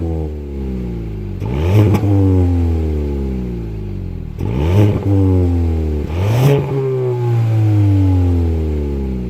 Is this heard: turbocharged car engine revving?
yes